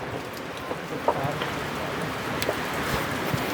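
Steady rain falls outdoors at a newly built house, a continuous broadband hiss with scattered faint drop ticks, fairly close and even throughout, with no talking.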